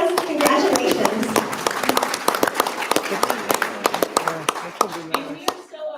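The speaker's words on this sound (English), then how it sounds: "Let's give them another round of applause." Audience at a board meeting applauding, with dense clapping that thins into scattered individual claps and fades out by the end.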